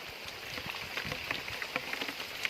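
Steady rain falls outdoors beside a flooded canal during a fish-trapping trip in the Thai countryside, with a constant hiss and scattered sharp drop ticks that stay even and fairly close throughout.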